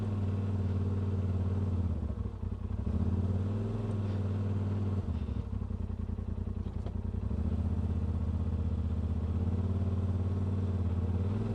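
A 2018 Polaris RZR Turbo with an Aftermarket Assassins S2 clutch kit and 32-inch Tusk Terrabites holds a loud, steady engine drone near 2,000 RPM, with brief dips and rises in pitch, running continuously and up close.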